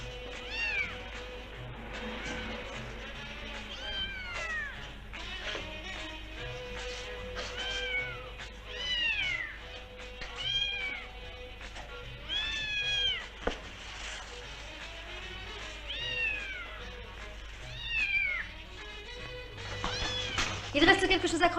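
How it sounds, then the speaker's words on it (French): A cat meows repeatedly in a tense indoor scene from a French film, its rising and falling cries coming in irregular bursts, close and clear, over a low steady hum with quiet voices and soft movement beneath. "Lâche le chat, Alain"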